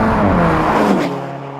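A 2015 Alfa Romeo 4C sports car drives past loudly, its engine note rising and then falling away as it moves off.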